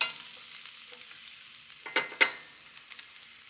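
Onions frying and caramelizing in a pan give a soft, steady sizzle with a few louder stirring scrapes near the middle, heard close and alone.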